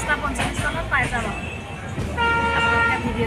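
Passenger train pulling into Lakhimpur railway station in the evening, a sustained horn-like tonal blare rising and falling over rumbling wheel noise, close and fairly loud, with people talking nearby.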